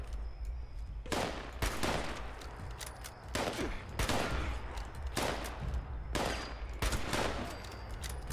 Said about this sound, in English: It's a Scorch shooting at a feral ghoul.